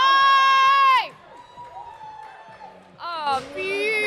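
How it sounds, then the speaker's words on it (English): A crowd at a powerlifting meet cheers loudly, then briefly quiets to a murmur before erupting again in whoops and shouts. "Crowd loves it"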